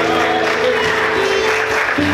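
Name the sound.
congregation applauding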